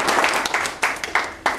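An audience claps hands together in welcome: a few quick bursts of applause with a loose, uneven rhythm, close and fairly loud, over a short stretch.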